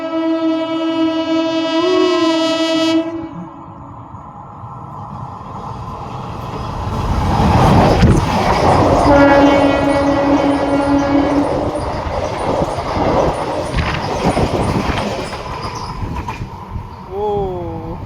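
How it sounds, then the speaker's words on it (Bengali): A train blasts its horn in long sustained tones, then roars past close by with rumbling and rattling wagons, the horn sounding again near the end; people talk faintly beneath. "ট্রেন আসছে।"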